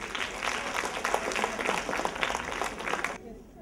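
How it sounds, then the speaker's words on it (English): Audience members at a CyberSAFE 2017 debate competition applaud a speaker, a full, steady roll of clapping from a crowd that cuts off abruptly near the end. "A big round of applause"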